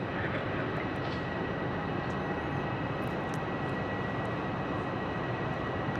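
A Boeing 737 MAX 8 airliner arrives at Phoenix airport with a steady, broad jet roar that stays even throughout, heard alone.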